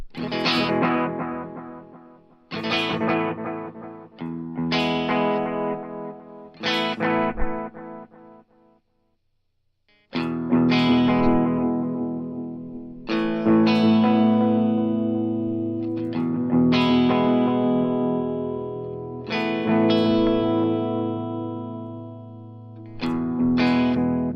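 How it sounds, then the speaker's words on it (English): A Flower Pedals Dahlia dual analog delay pedal repeats guitar chords, each strummed chord followed by decaying warm echoes, with a brief silent gap midway before more ringing chords and trails. "As you turn it back, you'll start to get warmer repeats and lose some of that bucket brigade noise as well."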